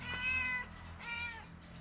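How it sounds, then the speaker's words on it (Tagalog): A cat meows twice, two drawn-out, tonal cries separated by a short pause, close by with a low background hum. "At yun ang pusa ni Jerome at Aaron"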